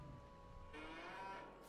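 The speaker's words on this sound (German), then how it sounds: "Schaut euch mal die süßen Kühe hier an." Cattle mooing in the farming video game Farming Simulator 22, a drawn-out lowing call rising partway through over a steady game background hum, with no talk.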